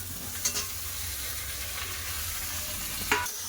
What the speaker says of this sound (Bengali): আর ঝিঙা দিয়ে দেবো